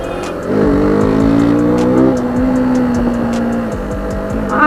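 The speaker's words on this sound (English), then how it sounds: "I'm not sure if I'm riding a Duke 200 or a Duke 390" A KTM Duke 200 motorcycle engine hums loud and close while the bike is ridden, its pitch rising and settling through the gears in a continuous drone.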